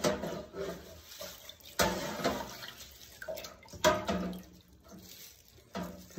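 Dyed pine needles lifted out of a bathtub dye bath, with water splashing and draining back into the tub in uneven bursts and trickles, close and moderately loud, no talking.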